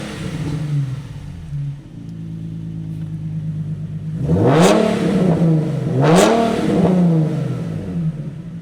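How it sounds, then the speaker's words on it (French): A car engine revs through a custom arc-welded exhaust line, idling with a low rumble before two loud, close throttle blips that rise and fall sharply. "Allez, vas-y, mets-nous un petit coup de gaz."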